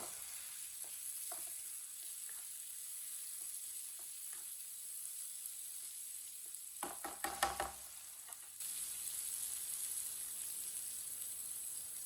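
Tomatoes sizzle steadily in hot oil for a Pakistani masoor dal and eggplant dish, with a soft continuous frying hiss, a few light clicks and a brief burst of stirring or scraping near the end.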